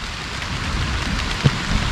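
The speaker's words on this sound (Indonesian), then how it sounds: "Hujan guys." Rain falling during a storm outdoors, a steady broadband hiss of drops with one brief knock partway through, loud and continuous with no talk.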